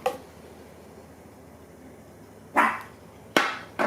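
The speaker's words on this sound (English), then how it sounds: "I'm sorry for all my dogs barking." A few sharp dog barks, spaced apart, ring out over a quiet background hum, the last two coming close together.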